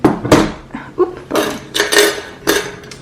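Loose change coins rattle and clink in short bursts, close and fairly loud, with no talking.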